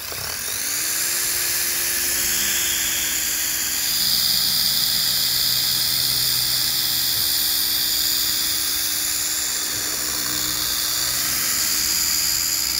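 A polishing machine works on the glass and trim of an F10 BMW M5, whirring loudly and continuously up close with a high steady whine that rises slightly in pitch partway through.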